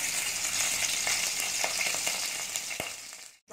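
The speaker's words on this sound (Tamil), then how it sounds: "கடுகு, ஒரு மிளகாய் தாளிச்சதுக்கு தேங்காய் விட்டு தான் தாளிக்கிறேன்" Dense, continuous crackling and sizzling of mustard seeds and chili spluttering in hot oil, loud and close, cutting off abruptly at the end.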